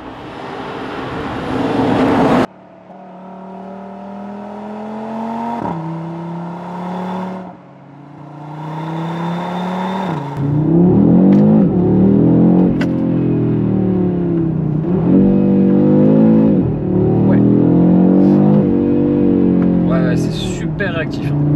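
An Audi RS3 8Y accelerates hard, its engine rising through several gears with rising harmonic tones and brief shift dips, loud and close from inside the car.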